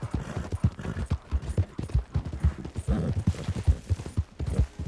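Horse hooves clip-clop steadily in Red Dead Redemption 2 Online, a close, rhythmic run of hoofbeats on ground continuing throughout with no talking.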